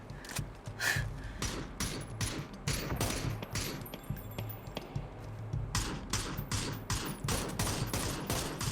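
Gunfire in a shooter video game, rapid bursts of sharp shots in repeated volleys, close and fairly loud over low background game noise.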